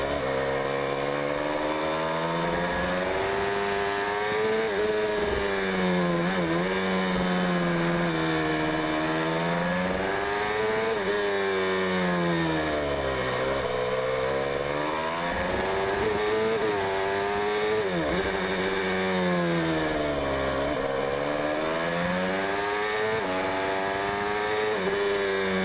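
Racing motorcycles at a ProtoGP race at the Juvaincourt track, engines droning and swelling continuously as bikes pass on their penultimate lap, a dense loud wall of overlapping revs rising and falling without talking.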